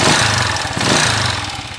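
A Honda TMX155 motorcycle engine, converted to five-speed, runs loudly and roughly in a steady near drone with uneven low rumble and rattly mechanical noise, alone without talk.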